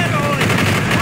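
Dense, continuous gunfire in Call of Duty: Black Ops, loud and sustained for the whole moment with no distinct single sniper crack standing out, faint voice chatter mixed underneath.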